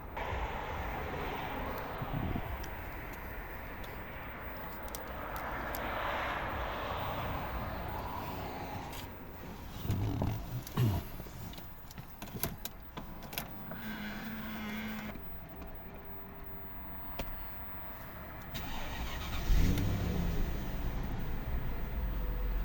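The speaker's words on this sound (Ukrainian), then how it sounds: "покажу, як працює двигун" A 2003 Mercedes-Benz S500 with a 5.0-litre petrol/LPG engine turns over and settles into a steady running hum, with a few clunks and rattles close by partway through.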